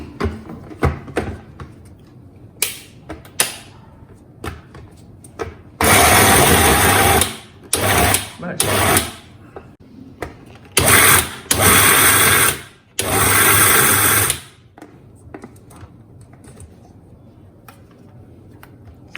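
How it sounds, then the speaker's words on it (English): A kitchen mixer grinder coarsely crushing lilva beans and green peas runs in several short, loud pulsed bursts, with scattered clicks and handling noises before the first pulse. "put it in your mixer because we have to coarsely crush it"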